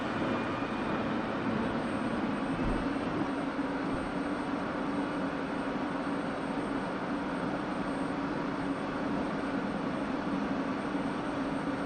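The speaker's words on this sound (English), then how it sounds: "You can now hear the JFS starting to spool up" A jet fuel starter spooling up on an F-16C in the DCS flight simulator: a steady, continuous turbine whine and rumble that holds at an even level throughout, with no speech.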